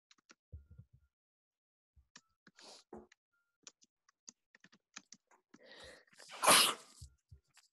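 A single sharp sneeze stands out late in a quiet room, among scattered soft keyboard taps and small clicks.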